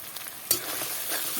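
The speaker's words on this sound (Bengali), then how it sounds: "দিয়ে দেবো আদা আর কাঁচা লঙ্কা বাটাটা, দিয়ে এটা একটু ভেজে নেব" Ginger and green chili paste sizzles in hot oil in a pan as it is stirred, a soft steady frying hiss with a sharper spatter burst partway through, close and alone.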